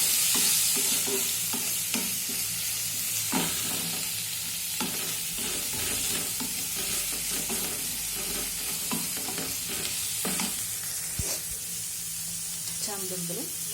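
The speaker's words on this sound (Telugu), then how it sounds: "సో ఇందులో మనం టమాటో ముక్కలను కూడా వేసుకుని వేయించేద్దాము." Tomato pieces frying with onions in a pan for taro root pulusu, giving a constant sizzling hiss with scattered stirring clicks and scrapes, loud and close, with faint voices now and then.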